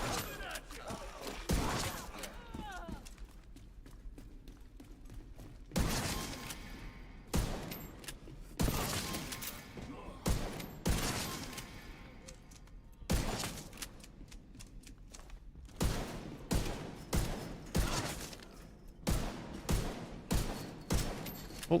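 Rapid bursts of gunfire from The Division 2 shooter game, sharp repeated volleys and single shots in quick clusters, loud and close, with gaps of quieter background between bursts.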